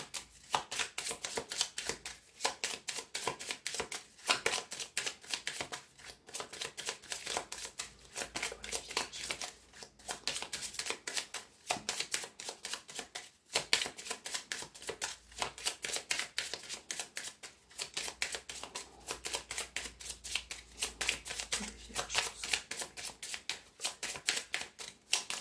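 A deck of small Lenormand fortune-telling cards is shuffled by hand in continuous rapid riffles and flutters, close and crisp, repeating in bursts with brief pauses.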